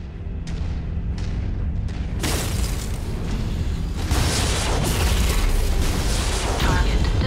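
A giant battle mech in Mechwarrior 5 bursts apart in a heavy explosion, with a few sharp cracks leading into a loud, rumbling blast that swells and keeps roaring to the end.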